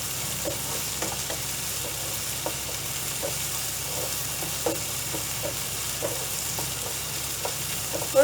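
Ginger and garlic sautéing in a pan for a bhindi masala, a steady soft sizzle with faint stirring scrapes and clicks recurring through it, close and even, with no voices.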